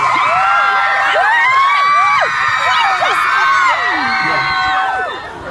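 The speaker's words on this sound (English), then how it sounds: "How do you go with this screaming all the time?" A large crowd of young fans at a Justin Bieber event in Sydney, Australia, screams and cheers nonstop, piercing shrieks and whoops overlapping in a loud, dense wall of sound.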